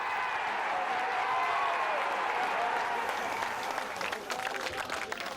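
Sellout football stadium crowd roaring and cheering after a stunning volley, a dense sustained wall of noise with scattered claps and shouts, loud and continuous throughout.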